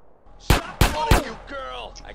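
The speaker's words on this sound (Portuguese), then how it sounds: "Ah, na moral, tu tá atirando em mim" Three sharp, loud gunshots in quick succession in Grand Theft Auto: San Andreas, evenly spaced about a third of a second apart, with game character voices talking after the shots.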